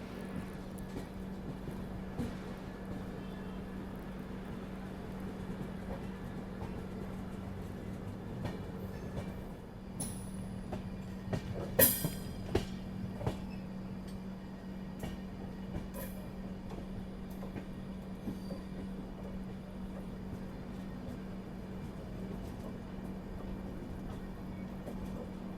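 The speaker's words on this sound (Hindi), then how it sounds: "चलिए फिलहाल अपनी ट्रेन का अराइवल हो रहा है दिगाना जंक्शन रेलवे स्टेशन में।" Marudhar Express arriving at Degana Junction station behind a WG12 locomotive: a steady rolling rumble with rhythmic wheel clatter and a brief burst of metallic clanks midway, no talking.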